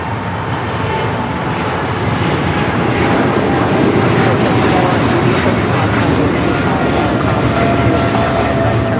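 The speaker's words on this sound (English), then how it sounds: "We got a rare heavy taking off here on the south side" A rare heavy jet takes off from the south side at LAX, its loud, continuous engine roar swelling slightly mid-clip and holding steady throughout.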